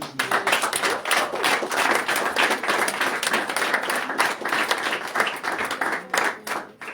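An audience at a Christian talk-show conference applauds, dense continuous clapping sustained at steady loudness throughout, with a few voices faintly mixed in.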